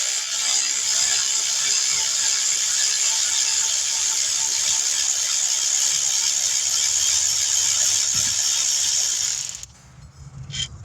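A ratchet works on the alternator bolts of a 2016 Dodge Journey, giving a fast, continuous mechanical clicking and whirring up close that stops abruptly near the end, leaving a quieter background.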